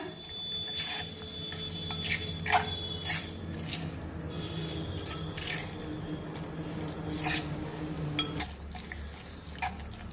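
A tomato and peanut thecha being stirred and mixed in a pan, giving wet squishing and soft scraping sounds in an irregular rhythm close up, with light clinks of the utensil.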